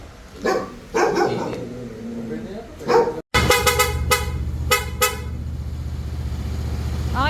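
A voice speaks briefly with a few sharp sounds in the background, then a Honda big bike's horn honks repeatedly in short, loud bursts close by.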